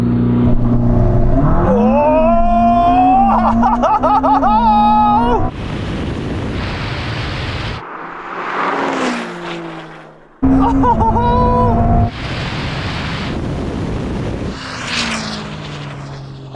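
A Ferrari SF90 and a Porsche 911 Turbo S launch side by side in a drag race, engines rising in loud, stepped revving sweeps, cut by abrupt gear-change breaks and a rush of wind noise.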